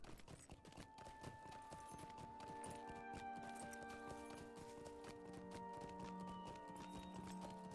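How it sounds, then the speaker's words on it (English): Horse hooves clip-clop in a steady quick rhythm in the Lord of the Rings Online video game, soft and continuous under a sustained tonal music or ambient bed. "I hear another horse, but I don't see any."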